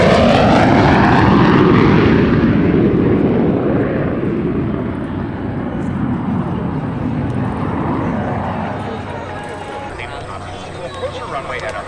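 A P-51 Mustang propeller fighter roars past at an airshow in a heritage flight alongside an F-16, loud and close at first with a broad engine drone that slowly fades into the distance.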